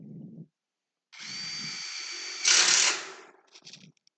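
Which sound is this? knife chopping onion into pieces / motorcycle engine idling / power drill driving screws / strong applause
power drill driving screws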